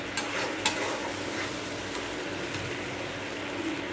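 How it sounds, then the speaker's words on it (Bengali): Raw mango chutney being stirred in a frying pan, a steady soft sizzle with scraping and stirring noises running evenly throughout at close range, no voices. "এবার এটাকে একটু নাড়াবো এরকম করে"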